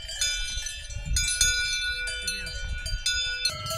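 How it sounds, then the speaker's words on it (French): Aubertino cowbell ringing on a cow, clear long metallic clangs struck at irregular intervals, each ringing out and overlapping the next, over low rustling and shuffling noise. "Parce qu'elle a une Aubertino, c'est une cloche complètement différente que celle-ci."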